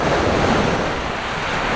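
Sea waves wash onto a flat beach in a steady, broad roar, loud and close, with wind buffeting the microphone and no voices.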